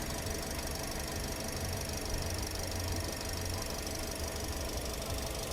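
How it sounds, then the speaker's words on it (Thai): A 2019 Toyota Vios 1.5 Mid idling steadily, low and even with a constant rumble and no revving, alone and fairly close. "เสียงเครื่องยนต์เดินนิ่งๆเลยฮะ สม่ำเสมอเสถียรไม่มีกระโชก"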